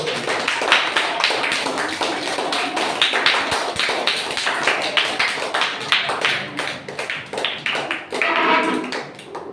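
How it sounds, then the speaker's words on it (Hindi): An audience claps loudly for competitive exam winners at a school event. The clapping is a thick, continuous patter of many hands that stays strong for several seconds, with some faint voices mixed in. "एक बार जोरदार तालियां दीजिए"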